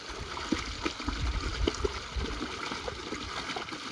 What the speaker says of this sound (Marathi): आता हे बोरचं पाणी आहे, समजा हे बोरचं पाणी,